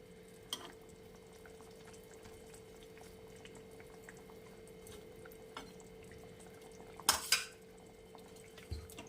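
Pabda fish curry with fried fish pieces simmers gently in a pan, a low steady bubbling hum broken by a few faint clinks and a brief louder rattle near the end, with no talking.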